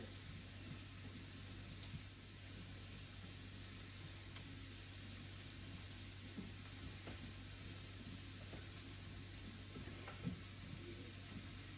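Diced white radishes fry in a pan with a steady, close sizzle and hiss that runs unbroken throughout, with occasional faint pops and stirring sounds.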